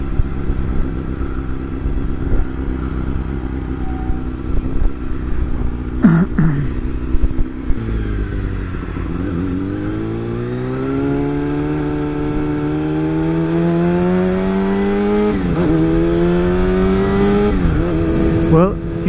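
A Honda CBR250RR motorcycle being ridden: a loud, steady engine drone that climbs in pitch through long rising revs, drops at gear changes and climbs again, heard up close.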